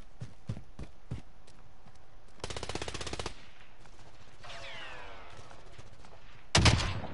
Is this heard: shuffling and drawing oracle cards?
no